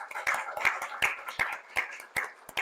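A small library crowd claps briefly, a sparse, uneven patter of individual hand claps close by, rhythmic rather than a dense roar.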